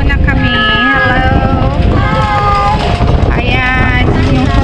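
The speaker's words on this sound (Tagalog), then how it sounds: "Mahangin, malakas ang ulan." Strong wind on a rainy November day in Saranda, Albania buffets the microphone with loud, constant roaring rumble while people talk over it.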